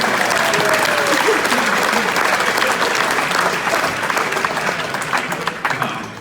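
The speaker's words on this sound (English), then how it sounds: "Can we get one more round of applause for the roasters tonight?" Audience applauding the roasters at a comedy roast of Fred Jackson, a loud, dense wash of clapping that holds steady and then thins slightly toward the end, with some voices and cheers mixed in.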